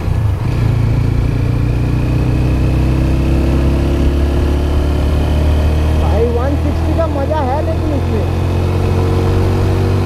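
TVS Apache RTR 160 4V motorcycle engine and exhaust running steadily while the bike is ridden, a loud continuous low drone close by, with a person talking over it.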